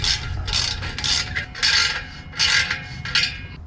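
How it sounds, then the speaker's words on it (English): Clamp on a Flowmaster direct-fit black exhaust tip on a RAM 1500, tightened with a ratchet: six bursts of rasping clicks in a steady rhythm, close and fairly loud, with no talking. "We'll go ahead and we'll tighten our clamp."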